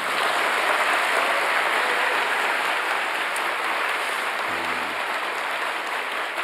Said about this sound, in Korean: 박수도 한번 하세요.